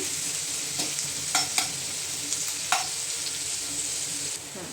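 Onion sizzles in a pan with a steady hiss while a utensil stirs it, producing a few scraping knocks against the pan partway through.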